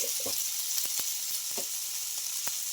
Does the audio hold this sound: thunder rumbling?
no